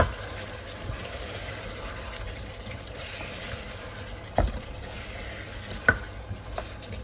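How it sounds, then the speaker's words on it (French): Vegetables are stirred into a simmering Congolese meat broth in a pot, a faint liquid bubbling bed with a few soft scraping and knocking stirs, quiet and close. "on va venir rajouter nos légumes qu'on avait coupés en avance. On mélange le tout."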